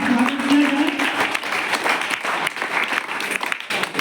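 Audience applause welcoming a guest who donated land for a school, at a school event in Bihar; steady dense clapping from a crowd throughout, with a brief tonal voice or hum near the start.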